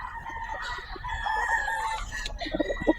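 Roosters and hens at a grotto market where gamefowl are sold, a long drawn-out crow with overlapping clucks and other fowl calls, moderately near against busy background noise.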